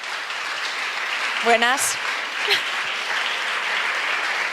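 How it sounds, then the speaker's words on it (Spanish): An audience at a public debate event claps steadily, a dense wash of applause throughout, with a brief spoken greeting and a voice rising over it. "Un aplauso."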